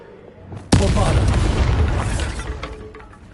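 A Bombarda explosion spell cast in the video game Hogwarts Legacy: a short lead-in, then a sudden loud boom with a rumbling blast that slowly decays over the next few seconds, followed by faint magical tinkles.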